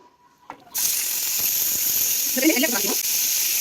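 Pirandai (adamant creeper) dropped into hot oil in a pan, bursting into a loud steady sizzle and hiss after a short quiet start with a small clatter, continuing close and unbroken to the end.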